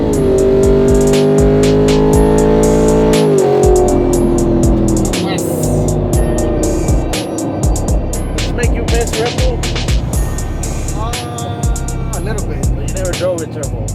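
A 2024 twin turbo Ford F-150 truck engine revs loudly and close, holding a steady high drone that then drops in pitch and settles into a rough, pulsing idle with a few blips.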